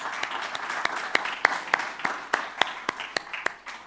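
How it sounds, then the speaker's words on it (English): A small audience at a university innovation challenge event gives scattered, uneven applause, with a dozen or so distinct sharp claps rather than a dense roar, fairly close and moderately loud. "a round of applause"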